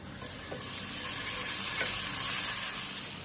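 Green chilies and ginger garlic paste sizzle steadily in about two tablespoons of hot oil for a cheesy mutton paratha filling, a close, continuous frying hiss with light stirring.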